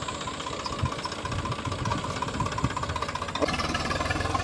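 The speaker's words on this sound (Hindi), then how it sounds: "बिल्कुल ही आसानी से निकल गया ट्रैक्टर" A Swaraj 744 tractor engine runs at a steady, near, loud chug with a knocking diesel pulse and vibration, shifting slightly in tone toward the end.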